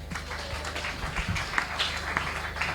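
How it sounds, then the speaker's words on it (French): A church congregation claps and cheers for a sermon theme, with dense, steady applause that is loud and close throughout the short moment. "On acclame pour le thème"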